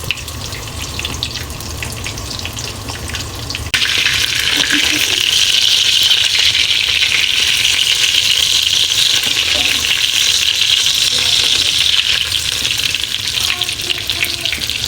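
Chicken schnitzel fries in hot oil with a dense, continuous sizzle that swells louder a few seconds in and holds steady, close to the microphone, with faint voices underneath.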